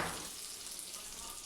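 Stuffed bharwa masala chillies being gently sautéed in a pan, giving a steady soft sizzle with faint stirring, continuous and fairly quiet throughout, with no talk.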